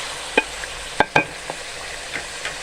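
Chicken frying in a pot gets stirred with a utensil, giving a few sharp scraping clinks over a soft steady sizzle, close and without talk.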